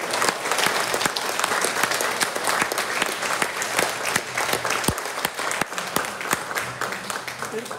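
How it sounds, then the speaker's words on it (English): An audience applauds steadily after a lecture, dense clapping filling the room for several seconds without a break. "let's give John a round of applause."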